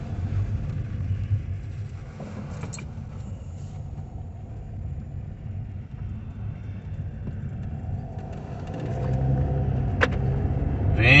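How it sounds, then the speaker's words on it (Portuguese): A car rolls slowly up to a house at night, a steady low engine and tyre rumble close by that grows slightly louder toward the end, with no talking. "Venho com o meu carro."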